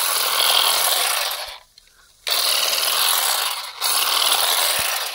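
A loud, steady whirring buzz of a motorized brush cutter trimming garden grass, cutting out briefly twice as the engine drops off, then resuming.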